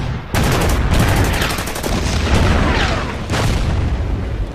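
Loud, dense bursts of gunfire and booming artillery from an Order of Battle: Winter War battle at Suomussalmi roll on without a break, with rapid crackling shots layered over heavy low rumbles.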